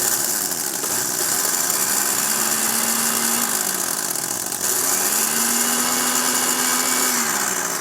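A food processor whirs in two pulsed bursts, each a couple of seconds long, as it chops corn chips, the motor's steady whine rising and dropping away between pulses over a constant background hiss.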